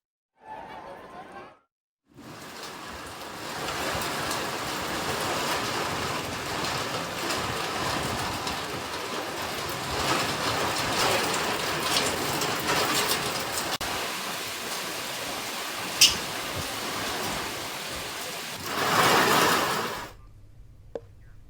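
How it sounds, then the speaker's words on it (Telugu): Heavy evening rain falling in Tirumala during a thunderstorm, a dense, steady roar of downpour that holds for most of the stretch after a brief pause, loud and close with no distinct thunderclap standing out. "సాయంత్రం వాతావరణం చల్లబడి ఉరుములు మెరుపులతో భారీ వర్షం పడింది"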